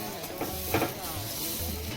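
Water sprinkled onto a roti on a hot clay griddle gives a soft continuous sizzle and hiss, fairly faint and steady, with low bumps from handling.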